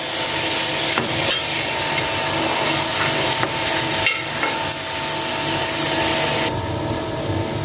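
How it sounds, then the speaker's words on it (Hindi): Chana dal being stirred while it roasts in a handi cooking pot: a steady, continuous sizzle with scraping strokes of a spoon and a few sharp knocks against the pot, close up. "अब इसमें हम डालेंगे दाल। और साथ ही हिलाते भी जाएंगे।"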